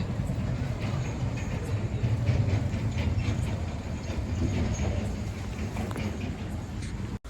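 Rumbling train rolling along the rails, a continuous low roar with faint rhythmic clatter throughout, ending abruptly.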